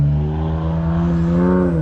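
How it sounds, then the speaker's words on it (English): A turbocharged car accelerates on a race track during a track night. Its engine tone climbs and then holds as a loud, steady, harmonic drone that sounds close, with no voices over it. "Pure, all that car is pure turbo noise now."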